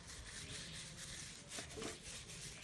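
Paper rubs blueband margarine around the inside of a saucepan, giving a faint, steady scraping and rubbing with a slightly louder burst of strokes near the end.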